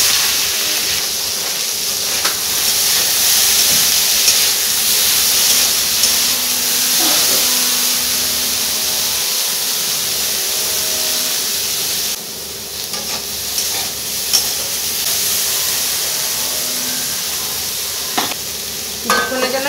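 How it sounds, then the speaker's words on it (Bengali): Eggplant slices coated in salt and turmeric fry in hot oil, a loud, steady sizzle and hiss filling the pan close up, with occasional stirring clinks and spatter over the constant crackle. "তেলটা গরম হয়ে গেছে, বেগুনগুলো ভেজে নেব।"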